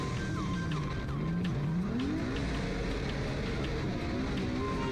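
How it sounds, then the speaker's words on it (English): A drift car engine whines loudly and continuously on a wet track, its pitch sweeping up and down through shifts and acceleration, with faint squeals of tires. "God, that car sounds nuts."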